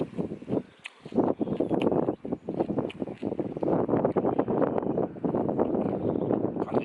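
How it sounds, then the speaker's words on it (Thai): Strong seaside wind buffets the microphone with a steady, roaring rush and a few short lulls throughout. "ลมสุดยอดเลยลมอากาศดีครับ"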